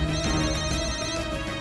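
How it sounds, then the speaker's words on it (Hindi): A telephone rings in a domestic drama scene, a steady electronic ringtone sounding continuously and fairly loud with no talk over it. "देख किसका फोन है।"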